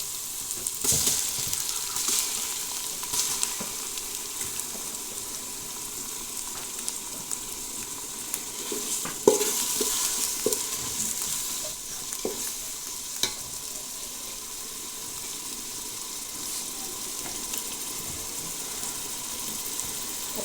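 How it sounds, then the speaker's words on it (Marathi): Chopped onion and tomato fry in oil over a wood-fired clay stove for a country-style chicken rassa. A continuous, moderately quiet sizzle runs throughout, broken by occasional clicks and taps of stirring. "कांदा आणि टोमॅटो घेतलेला तो देखील मी आता भाजून घेणार आहे"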